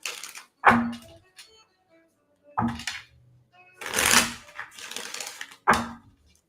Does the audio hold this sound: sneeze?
no